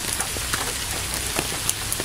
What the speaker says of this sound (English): this video has rain audio inside it